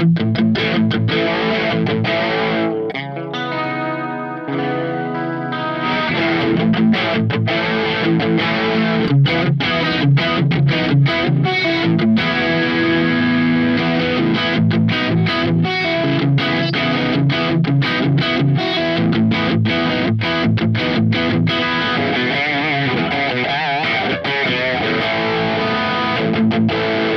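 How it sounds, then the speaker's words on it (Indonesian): An electric guitar played through a slightly crunchy distortion tone rings out alone in strummed chords and picked notes, sustained and fairly loud, with a brief pause and quieter passage early on. "Jadi kurang lebih soundnya sudah sedikit crunch."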